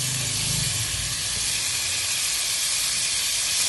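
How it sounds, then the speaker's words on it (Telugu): Tomatoes hit a hot pan of frying coconut paste and coriander for a mushroom curry, a loud, close, steady hiss of sizzling steam that holds evenly with no talking. "తర్వాత టమాటాలు వేయాలండి."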